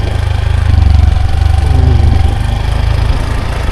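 A vehicle's engine hums steadily as it rolls along a road through a village at the foot of the Western Ghats near Coimbatore, a close, continuous mid-pitched drone with no talk.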